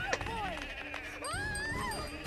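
A cartoon goat lets out a couple of wavering, pitch-bending bleats, close and fairly loud, with lively background sound and voices mixed in.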